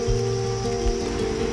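Rain falls steadily at a grassy valley campsite on a solo camping trip, a soft, even patter that runs without a break and with no voices.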